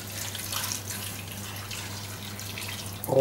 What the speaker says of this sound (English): Now you need to add your pint of chicken stock,